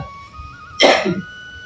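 A single harsh cough bursts out close by, short and loud, over a quiet background with a faint steady hum.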